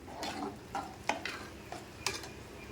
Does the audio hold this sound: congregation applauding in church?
no